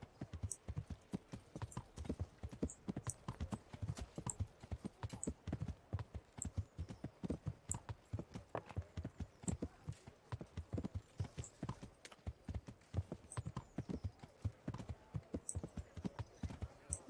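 Horse hooves clip-clop steadily in the video game Kingdom Come: Deliverance, a brisk continuous trot of hollow thuds at a constant pace with faint jingling tack, no speech over it.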